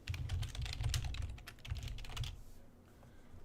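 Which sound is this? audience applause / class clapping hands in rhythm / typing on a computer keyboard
typing on a computer keyboard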